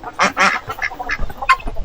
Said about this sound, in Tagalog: Yung isa nating bingala, nagsasagutan sila ng huni.